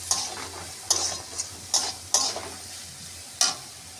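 Green chillies stirred and frying in a pan for Bengali kalmi shak, with a few distinct scraping stirs over a faint, steady sizzle, close and alone with no voices.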